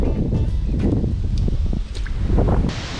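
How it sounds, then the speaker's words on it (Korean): Strong, near-typhoon wind blowing at a seaside fishing spot in Ganghwa, Incheon, a loud continuous roar buffeting the microphone with brief gusty swells and faint scattered knocks. "지금 바람이 너무 많이 불어가지고"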